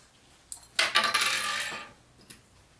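Plastic sewing clips snapped onto the side pieces of a fabric cosmetic pouch, a quick click followed by a longer burst of clattering handling noise and one more faint click, with no talking.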